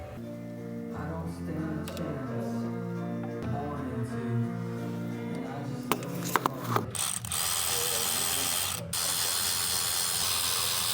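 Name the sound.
ratchet tightening valve covers on ZL1 engine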